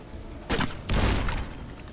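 Gunfire and explosions in the video game Fallout: New Vegas come in two dense, rumbling bursts of rapid shots with booming low impacts, loud and close.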